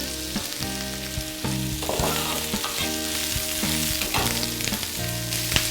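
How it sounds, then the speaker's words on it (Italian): Sliced zucchini and unpeeled garlic cloves sauté in a pan over moderate heat, a steady close sizzle with repeated scraping stirs and light clatter throughout, with music playing underneath. "facciamo rosolare l'aglio in camicia e aggiungiamo le zucchine che abbiamo già affettato"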